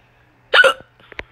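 A single sharp, close hiccup bursts out of the silence, followed by a couple of smaller catches of breath.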